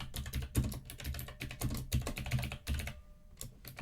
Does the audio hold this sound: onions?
no